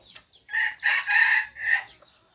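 A rooster crows at dusk among young crossbred fighting chickens, several strong drawn-out calls in quick succession, fairly close, with no talk over them.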